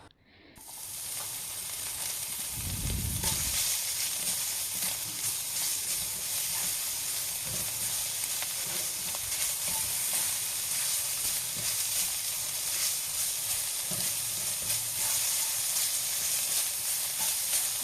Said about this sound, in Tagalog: stir fry natin yung ating bean curd para maging medyo crispy siya